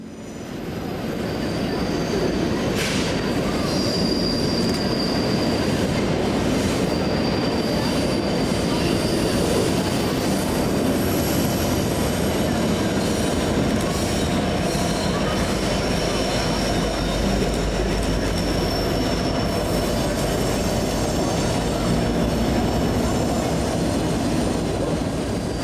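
A coal train hauled by GEVO locomotives rolls past with its distributed power units. A long, steady roar of wheels and cars fills the whole stretch, with faint squeals above it. It stays close and loud throughout.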